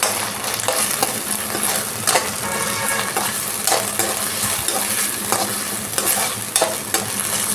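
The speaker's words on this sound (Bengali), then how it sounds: "এবার আমি টমেটো কুচিগুলো দিয়ে দেবো।" Chopped tomatoes hit a hot pan for eggplant bharta and fry with a constant sizzle, while a utensil stirs and scrapes them in irregular bursts nearby; nobody speaks.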